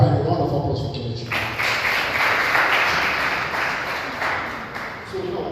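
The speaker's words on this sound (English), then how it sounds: "So please, one more time, a round of applause for Kenechukwu." Audience applause at a law graduation panel event, a sustained wash of clapping that follows a brief voice at the start and then fades out.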